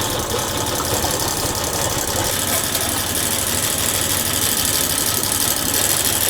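A warmed-up Honda 50 outboard boat motor runs steadily at idle, a loud, continuous mechanical drone with a fine rapid knock throughout, no pauses and no voices.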